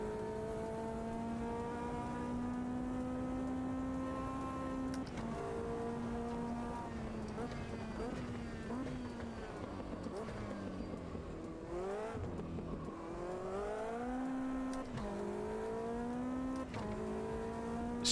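A race car engine in the racing video game Automobilista 2 holds a loud, steady, harmonic drone that climbs and drops through the gears, with revs dipping and rising again midway and no one talking.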